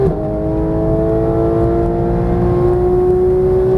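Close in-cabin roar of a Porsche GT3 race car on a Vegas circuit: a brief dip at the gear change, then the engine climbs steadily in pitch under full throttle.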